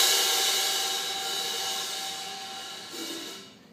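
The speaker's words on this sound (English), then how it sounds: "bring the two plates together, but not all the way, so that they get that nice sizzling sound" Two cymbal plates held partly together give a steady bright metallic sizzle, a sustained wash of hiss that slowly fades, with a slight renewed swell near the end, heard alone without talk.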